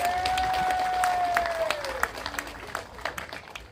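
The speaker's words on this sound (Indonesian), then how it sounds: "tepuk tangan semuanya" At a political rally in Malang, a crowd breaks into applause, a dense wash of clapping that swells briefly and then thins out, with a sustained tone and scattered voices at the start.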